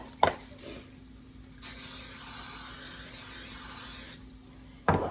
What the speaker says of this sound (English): I have an 8-inch square pan. I'm going to spray it.